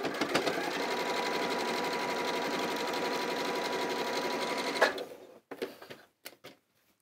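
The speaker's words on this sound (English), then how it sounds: "just using that quarter inch, we're simply going to sew across" A sewing machine stitches a quarter-inch seam across a quilt block, running steadily and close for about five seconds, then stopping, followed by a few short handling clicks and knocks.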